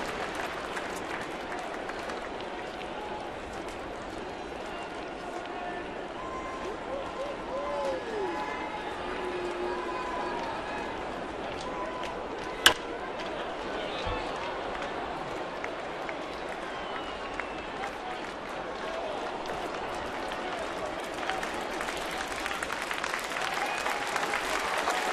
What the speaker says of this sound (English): the crowd on hand encouraging Delabar to finish it off